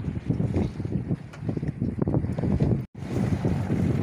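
Sailboat running under full mainsail and genoa at about five knots, steady rushing wind buffeting the microphone over water noise and hull swish, loud and continuous with a brief dropout.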